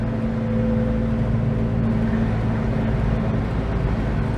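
Austin A35 with its 948 engine cruising at nearly 50 mph, a steady, loud drone with a constant low hum and road rumble throughout, no voices.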